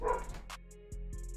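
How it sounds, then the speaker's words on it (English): A dog barks and yips briefly in the background of a home recording about a Las Vegas Raiders football game, with short sharp calls over a low steady hum. "Sorry about my dog barking"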